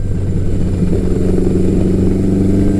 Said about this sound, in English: this XJ1100 does is it picks up revs and drops revs very quickly